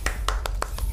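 Six sharp hand claps in a quick, slightly uneven sequence, close to the microphone and fairly quiet, with a faint low hum beneath.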